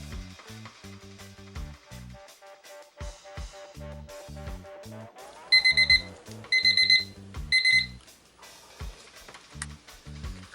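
A kitchen timer goes off while resin is being stirred for a DIY mold, giving three short bursts of rapid, bright beeping over steady rhythmic background music.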